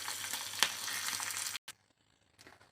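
Hot oil crackling and sizzling steadily as curry leaves hit the pan, then the sizzle cuts off abruptly, leaving near quiet with a faint late splutter.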